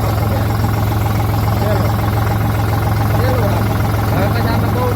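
A large BT 32 tractor engine runs steadily in a village, a deep, even idle hum that stays constant for the whole stretch, with voices faintly audible behind it.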